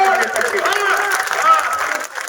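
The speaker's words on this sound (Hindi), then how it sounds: "जरा 2 मिनट तक तालियां देखना चाहता हूं।" Applause from the audience at a kavi sammelan (poetry gathering) in Sandila during the Mahavir Jhanda fair, a dense steady wash of clapping and crowd noise that holds throughout, thinning slightly near the end.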